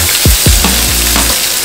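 Chopped onion hits hot oil with a loud burst of sizzling and a couple of low thuds, the hiss holding steady for a moment.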